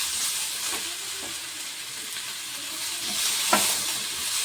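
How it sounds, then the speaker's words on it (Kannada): Tomatoes frying in a kadai for an egg curry, a quiet, even hiss of sizzling oil with a couple of faint stirring knocks, one slightly sharper near the end. "ಈಗ ಟೊಮೆಟೊನು ಚೆಂದಾಗಿ ಫ್ರೈ ಮಾಡಮ್ರಿ."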